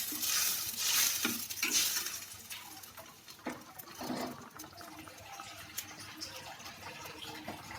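Water is poured into a pot of parotta salna curry, splashing and gurgling nearby in a few uneven bursts, followed by softer liquid sloshing.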